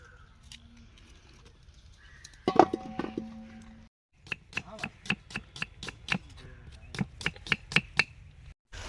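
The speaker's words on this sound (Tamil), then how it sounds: "நெக்ஸ்ட்டு வந்து வெஜிடபிள் கட்டிங் தான்" Vegetables are chopped on a board for mutton biryani. After some quiet handling and a clatter, a knife strikes the board about a dozen times in a steady, close, rhythmic run.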